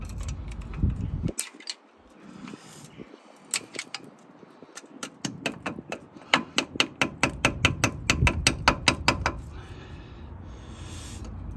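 Rapid ratchet clicks from tightening the nut on the front right lower ball joint of a 2008 Toyota Avensis 2.0 D4D T270, a close run of sharp metallic ticks that quickens and grows louder toward the end, with a faint voice near the start.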